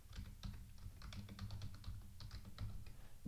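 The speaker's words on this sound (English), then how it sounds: "And then you can type your username and your password." Rapid, light clacking of a computer keyboard as a username and password are typed, close and fairly quiet, with uneven bursts of keystrokes and no talking.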